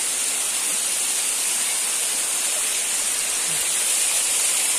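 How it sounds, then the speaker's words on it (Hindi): Heavy rain pours down steadily outdoors near a pier with waterfalls nearby, a dense, continuous hiss of downpour filling the whole stretch without speech. "बहुत ही जोर से बारिश गिर रहा है।"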